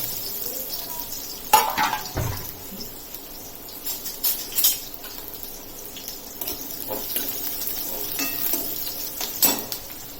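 Finely chopped onion frying in a pan for a creek-prawn curry, a soft uneven sizzle broken by a few sharp clatters and scrapes of stirring, with a faint background hum.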